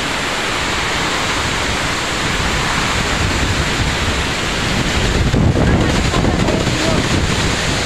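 Roaring typhoon wind during Typhoon Odette in Puerto Princesa, Palawan, a loud continuous rushing roar buffeting the microphone, swelling slightly in intensity toward the end.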